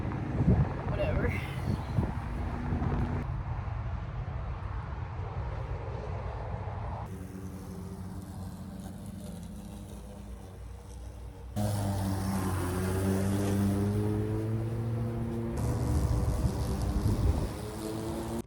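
A lawn mower engine drones steadily outdoors while mowing the lawn on a very windy day, its hum shifting in pitch as wind buffets the microphone and a person talks over it.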